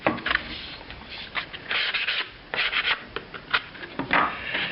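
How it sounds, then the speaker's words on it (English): A wooden school project gets a final hand sanding before polishing, soft scratchy rubbing strokes repeating in an uneven rhythm, close and fairly quiet, with no talk. "You will have already sanded it once, but this is just a final check to make sure everything is perfectly smooth."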